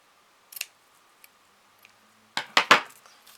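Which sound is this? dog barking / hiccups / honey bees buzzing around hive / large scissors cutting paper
large scissors cutting paper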